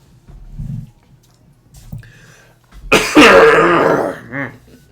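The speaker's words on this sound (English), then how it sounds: "Excuse me while I cough on air." A harsh, loud cough rings out close to the microphone during a live card-break stream, a rough throaty burst with a smaller follow-up hack, after a low murmur of background noise.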